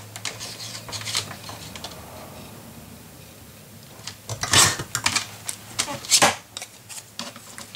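Paper being trimmed down for a handmade carousel mini album, with sharp crisp cutting strokes near 4.5 and 6.2 seconds amid lighter tapping and handling noises, no talking.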